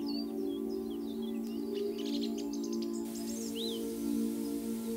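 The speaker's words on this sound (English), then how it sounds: "You hear birdsong and the rustle of leaves in the trees." Several birds chirp and call in bright, scattered phrases over a steady background hum of insects, with no voices present.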